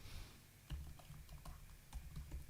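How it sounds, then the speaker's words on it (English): Computer keyboard typing at a desk, a quick uneven run of soft clicks and key taps with a few heavier thumps, fairly close and quiet with no talking. "Why am I typing in caps?"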